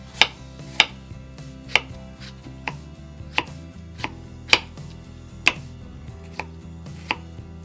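A knife cutting a halved cucumber into very thin slices on a board: about a dozen crisp, evenly spaced chops, sharp and close, with no voices.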